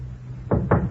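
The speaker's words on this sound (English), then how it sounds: "The knock was repeated louder." Two firm knocks on a wooden door, close and fairly loud, quickly repeated after a quiet pause, standing alone without speech.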